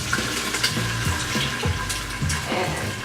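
Diced green tomatoes are poured into a hot pan for a shrimp dish, giving a wet, splashing sizzle that runs steadily and fairly loud with a few sharper bumps and no talking.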